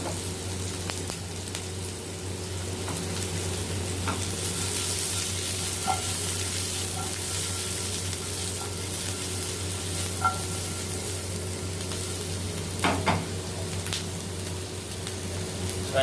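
Onion tomato masala sweating in a kadhai, giving a steady close sizzle throughout with a few faint spoon taps and scrapes along the way.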